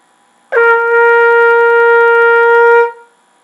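A sustained trumpet tone, played with an oo vowel mouth shape, holds one steady pitch for about two and a half seconds, clean and fairly bright, starting sharply and fading at the end.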